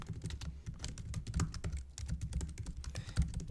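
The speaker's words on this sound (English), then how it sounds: "So I'm going to type these in." Rapid, uneven keystrokes on a computer keyboard while code is entered for a Django tutorial, a close, steady clatter of clicks running throughout with no talk.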